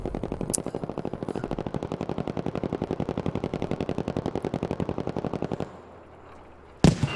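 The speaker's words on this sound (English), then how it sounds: "that'd be very annoying for that constant gunfire" Sustained rapid automatic gunfire rattles for nearly six seconds in a competitive shooter video game, a dense steady burst of shots, loud and close, ending with a brief sharp crack.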